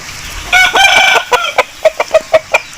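An aseel rooster, a four-time winning show bird, lets out a loud, close call, then a run of short, evenly spaced clucks, heard alone.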